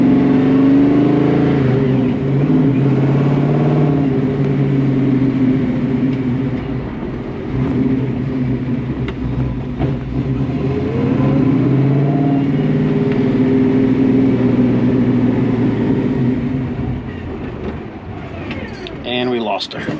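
A 347 stroker car engine, down on power and idling low, runs steadily close by with rising and falling revs through the clip, a rough mid-pitched drone with a few throttle swells and voices talking over it.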